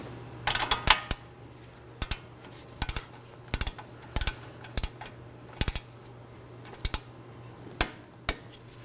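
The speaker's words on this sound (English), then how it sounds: "Now I'm going to torque my castle nut to 26 foot-pounds." Sharp metallic clicks from a torque wrench tightening a castle nut on a 2018-2024 Chevrolet Equinox steering rack, close and dry, coming in irregular single snaps and short clusters over a quiet background.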